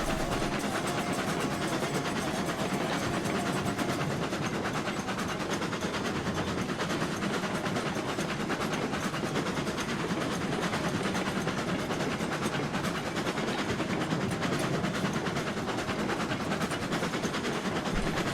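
Locomotive called the El Sluggo rolling on rails in the game Railroads Online, a steady, continuous rumble with rhythmic clickety-clack of wheels over track joints, fairly close and unbroken for the whole stretch.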